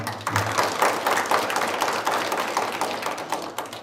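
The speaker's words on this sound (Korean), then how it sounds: "우리 종정 어르신께 큰 박수 좀 부탁드립니다." An audience at an indoor fire-safety education event claps together in a dense, even patter of many hands, lasting several seconds at moderate loudness with no talking over it.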